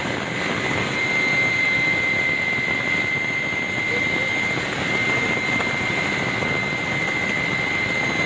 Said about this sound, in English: So this is when I was in the helicopter.